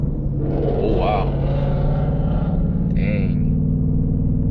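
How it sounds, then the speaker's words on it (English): A supercharged Ford Mustang S550 revs and roars past outside, a loud, steady engine drone with a rising whine, heard from inside a car over continuous road rumble while someone talks throughout. "that was definitely a supercharged"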